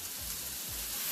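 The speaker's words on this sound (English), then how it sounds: "going to cook this bacon. I have it on medium right now." Bacon sizzling in a pan on medium heat, a steady close frying hiss with fine crackles and no voices.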